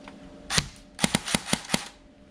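An airsoft gun fires at rice cakes, giving one sharp snap and then a quick burst of five close, crisp pops in steady succession.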